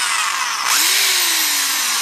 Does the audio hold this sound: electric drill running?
yes